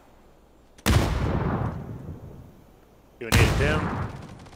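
Two bursts of distant gunfire from a firefight in the video game PUBG, each a sharp loud onset with a rolling decay, about two seconds apart, with a voice talking briefly over the second.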